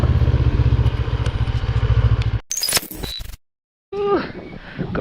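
An NK400 motorcycle on a rough, rocky road in Batangas: the engine thumps in a fast steady pulse up close, then cuts out briefly before rattling and clunking resume.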